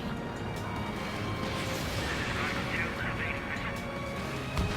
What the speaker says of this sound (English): Launching missile.